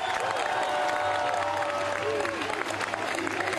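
A crowd at a French Union populaire political rally applauds and cheers, a dense steady wash of clapping and shouting that runs loud and unbroken for the whole stretch.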